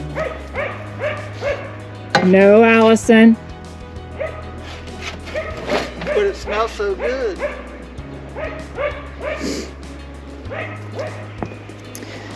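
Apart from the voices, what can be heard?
dog barking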